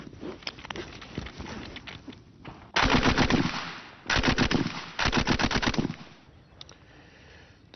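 A Bren light machine gun fires in sustained automatic bursts: several loud, rapid, close strings of shots separated by short pauses, with a few scattered single reports between them.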